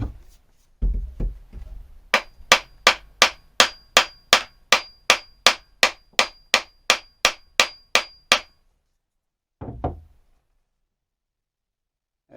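An axe head being hammered onto its handle, with a fast, even series of about fifteen sharp metallic strikes, a few duller knocks before them and one more pair after a pause, loud and close with no talk.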